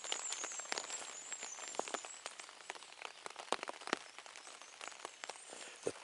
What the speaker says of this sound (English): The pitter-patter of morning rain.